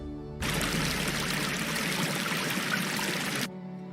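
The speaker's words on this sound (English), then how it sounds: "I have added the waterfall sound effect." Steady rushing water from a waterfall sound effect, a dense continuous hiss and splash that starts abruptly and runs for about three seconds before cutting off, close and even in level.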